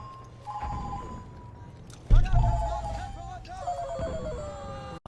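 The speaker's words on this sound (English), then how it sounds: "That was a phone call." A telephone rings in repeated electronic bursts over background Battlefield 1 game sounds and a low rumble, with a louder thump partway through.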